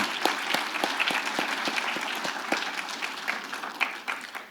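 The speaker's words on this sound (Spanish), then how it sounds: "aplausos." An audience at a tourism panel discussion on competitiveness and sustainability gives a brief round of applause, with moderately loud, distinct hand claps forming a steady patter that tapers off at the close.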